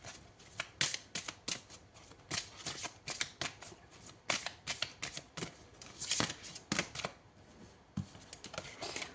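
Oracle cards being shuffled and drawn in a quiet room: soft, rapid riffling flurries in irregular bursts with brief pauses, close and gentle, no voice.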